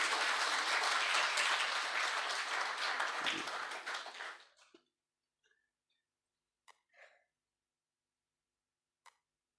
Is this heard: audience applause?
yes